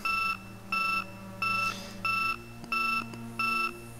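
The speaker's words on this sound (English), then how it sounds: "Sounds like another alarm or something about to go off." An alarm in the survival game Project Zomboid beeps in six evenly spaced pulses, moderately loud over a low ambient hum.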